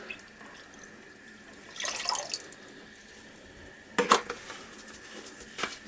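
Hydrochloric acid is poured during gold recovery from scrapped chips, giving two brief, faint splashing bursts of liquid a couple of seconds apart over a quiet hum, with a last small trickle at the end.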